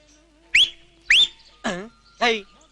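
A man whistles in a Kannada comedy film scene. Two sharp rising whistles ring out close and clear, followed by two shorter, more voiced whistle-like calls, with quiet gaps between them.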